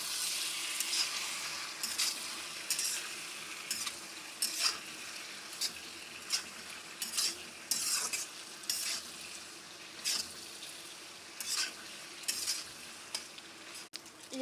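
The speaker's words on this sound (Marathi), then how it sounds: "मॅक्रोनी ह्यामध्ये घातल्यानंतर ह्याला चांगलं आपण परतून घ्यायचं" Macaroni and Maggi noodles for a spicy pasta are stir-fried in a pan, with a steady sizzle under repeated scraping stirring strokes at a fairly regular rhythm, close and clear.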